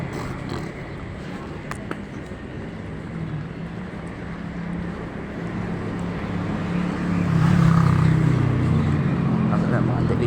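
Idling delivery trucks lined up along a street give a steady low engine rumble, swelling louder near the end, with brief voices and some wind buffeting.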